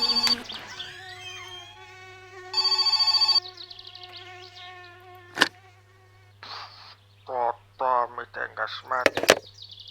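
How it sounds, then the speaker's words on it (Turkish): A telephone rings in the video game My Summer Car, with repeated electronic ringing tones over a steady low hum and brief bursts of other game sounds near the end. "Ama kapı çalıyor Telefon çalıyor."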